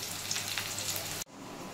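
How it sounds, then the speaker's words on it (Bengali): Onion sizzling and frying in oil in a thin wok, a steady close crackling hiss that cuts off abruptly near the end, leaving quieter room noise. "এই পেঁয়াজটা ভাজা হচ্ছে।"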